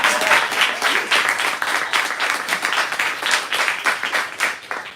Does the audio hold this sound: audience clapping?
yes